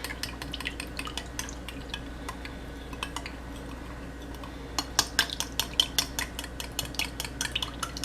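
Homemade hand sanitizer with drops of lemon citrus oil being whisked in a bowl, giving quick light clinking strokes that start sparse and grow into a denser, louder run of taps near the end, with no talking.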